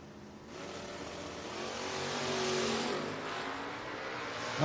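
Third-generation Camaro drag car launching at a drag strip, a broad roaring engine rising in loudness over a few seconds, mid-distance and steady with no talk.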